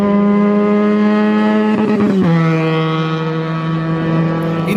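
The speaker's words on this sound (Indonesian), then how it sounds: "Dengan konfigurasi mesin 2 silinder dan firing order 360 derajat, suaranya jadi lebih dalam dan lebih merdu." A Benelli two-cylinder motorcycle engine with a 360-degree firing order, loud and close, holding a steady deep drone that briefly climbs and then settles to a slightly lower idle note.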